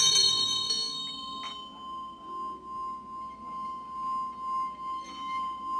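A Tibetan singing bowl in a shop of statues and ritual objects rings out after a strike, a clear sustained metallic tone with a slow pulsing waver that fades gently over several seconds.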